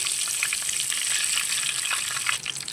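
Dried red chillies, cumin and mustard seeds crackle in a little hot oil for Hyderabadi bagara baingan, a dense, close sizzle with rapid tiny pops that stays steady start to finish.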